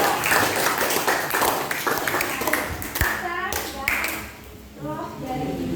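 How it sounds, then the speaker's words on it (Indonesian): Clapping in a classroom during a positive-discipline lesson, a scattered burst of hand claps mixed with children's voices and talk, fairly close and moderately loud. "Tepuk tangan."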